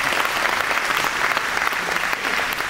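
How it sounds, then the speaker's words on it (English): A roomful of parks and recreation employees applauds at a staff presentation, loud continuous clapping at a steady level with no talk over it. "Could you give yourselves a round of applause for the E205?"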